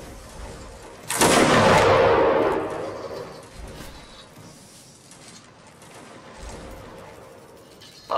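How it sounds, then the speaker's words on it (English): A loud booming artillery blast in the video game Mount & Blade erupts abruptly and rolls away over a few seconds, followed by quieter background noise and a faint thump near the end. "A gunshot."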